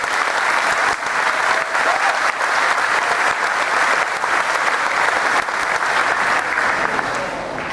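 A high school graduation audience applauds loudly and continuously, dense clapping from a large crowd filling a hall without a break.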